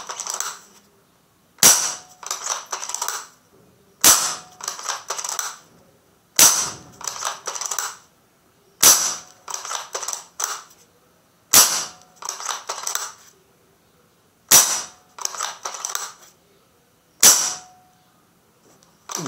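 Sharp air rifle shots fired one after another at a steady pace, roughly every two and a half seconds, each a crisp snapping crack with a brief ringing tail.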